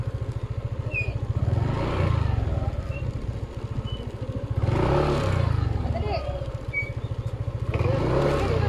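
Motorcycle engine idling and rumbling steadily close by while the rider looks for a spot to park near a falls in Bulacan, with swells of revving and voices talking over it.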